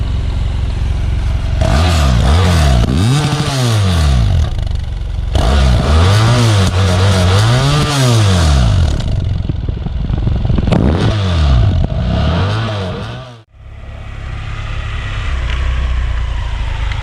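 A BMW 800GS adventure motorcycle engine revs up and down in several loud, close blips, rising and falling in pitch between steadier idle stretches, with a brief cut near the end before idling resumes.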